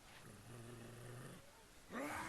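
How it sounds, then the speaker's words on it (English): A big dog growls in the video game Professor Layton and the Azran Legacy, a low rumbling snarl lasting about a second, followed by a brighter, harsher vocal burst. "It's some kind of big dog."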